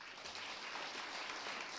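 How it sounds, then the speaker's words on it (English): A round of applause at a regional State of the Region address in Omaheke, a dense, sustained crowd clapping heard at moderate distance, fairly quiet and even for its short length. "You deserve a round of applause."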